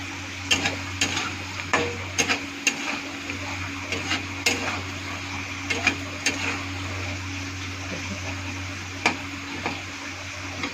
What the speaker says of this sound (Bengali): শুধু আলুটাকে ভাজা ভাজা করবো।